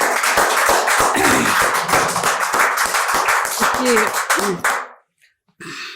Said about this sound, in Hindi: मन से ताली हो जाए, भरपूर मन से हो जाए।